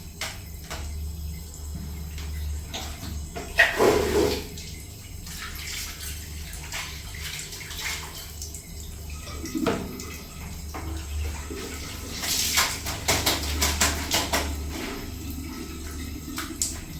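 Tap water runs and splashes while clothes are washed, a steady flow broken by louder gushes and sloshing bursts, heard close by.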